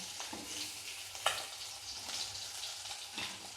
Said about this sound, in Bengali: মাছটিকে ভালো করে লাল করে ভেজে তুলে নেব